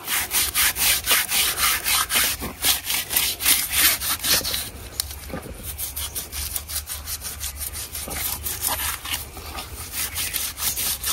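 Pangas fish skin is rubbed clean in quick, rhythmic scraping strokes, a close, steady series of rasping pulses that continue throughout.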